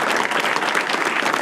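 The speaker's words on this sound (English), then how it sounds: "Give yourselves a round of applause." A live comedy podcast audience at the DC Improv breaks into loud, close applause, a thick wash of many hands clapping steadily throughout, with no voices on top.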